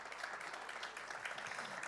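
Audience at an international district energy conference applauding together, a soft, even spread of many hands clapping, distant and faint, with no speech on top.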